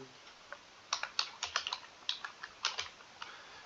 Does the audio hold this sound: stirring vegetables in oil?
no